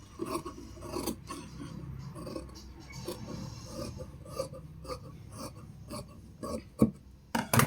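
Scissors cut through kameez fabric on a tailoring table with quiet rasping snips and rubbing, and sharper clicks of the blades come near the end. No one talks.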